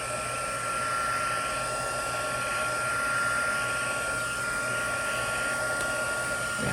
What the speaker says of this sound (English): Just get out a heating tool and you can dry this